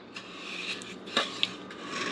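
A spoon stirs sugar, salt, corn syrup and water in a pot for homemade marshmallows, giving soft rasping, scraping strokes at close range with a couple of sharper clinks.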